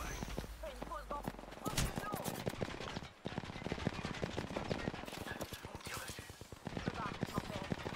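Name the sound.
gunfire in the video game Apex Legends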